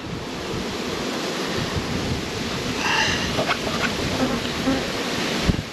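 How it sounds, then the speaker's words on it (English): Honey bees buzz steadily around two stacked beehive supers, a dense, continuous drone filling the whole stretch without any talking. "the bees will rob these 2 supers by the morning"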